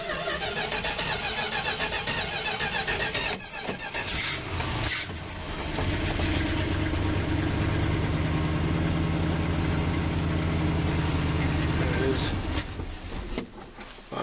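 A 1991 Dodge Dynasty car engine with a manual choke cranks, catches and settles into a rough, steady idle close by on a cold, windy day, with wind noise and someone talking over it.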